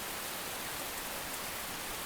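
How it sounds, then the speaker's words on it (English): Heavy rain downpour in the video game Enshrouded, a steady broadband hiss of dense rainfall filling the whole short stretch, fairly soft and even with no voices over it. "Wow, this is a very big downpour, actually."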